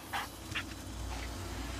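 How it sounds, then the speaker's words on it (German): A search dog that has picked up a scent gives two brief, faint whimpers over a steady low hum. "So, der Hund hat Witterung aufgenommen."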